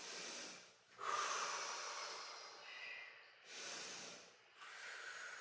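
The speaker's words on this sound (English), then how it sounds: "nice big deep breaths" Deep, slow breaths during a stretching routine, heard close and faint as long airy inhales and exhales in a steady rhythm, with no talking.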